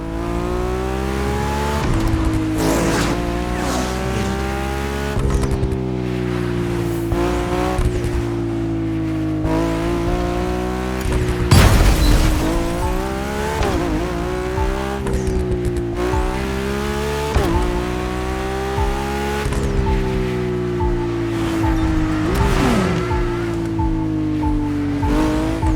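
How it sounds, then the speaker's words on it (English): A 2002 Ferrari Enzo supercar in the racing game The Crew Motorfest, its engine screaming loud and continuous through repeated upshifts and revving with occasional tire squeal, and no voices. "We're letting you get your hands on the 2002 Ferrari Enzo."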